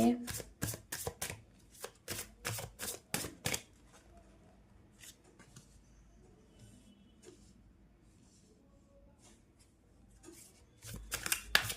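Tarot cards are shuffled by hand in a rapid burst of crisp riffling flutters at the start, then near quiet with faint handling, and another quick shuffle at the end; no talking.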